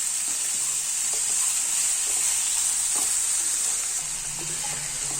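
Chopped ivy gourd (kovakkai) stirred and fried in a pan, a steady bright sizzle with occasional soft scraping and tapping of the spatula, close and without talk.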